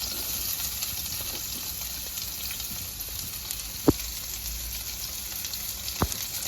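Onions frying in hot oil in a pan, a steady, moderately loud sizzle and crackle close by, broken by two brief clinks of a utensil, no voices.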